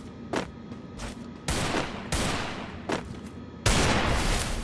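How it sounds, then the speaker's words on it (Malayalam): Gunfire rattles in a shooting video game with M8 and Desert Eagle weapons: several loud bursts of shots, some short and some sustained, come close together against a constant background roar. "First shot miss, 2ാമത്തെ shot miss, 3ാമത്തെ shot miss guys."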